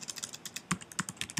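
Quick, steady typing on a computer keyboard while entering a server address to connect to TeamSpeak: a rapid run of close, crisp key clicks with a few heavier strikes, with no voices.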